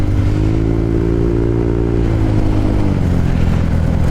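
A Honda Click 125 v3 scooter being ridden on a highway trip from Manila to Baler, Aurora: a loud, steady engine drone with wind roar, close and continuous, the engine pitch dipping slightly near the end.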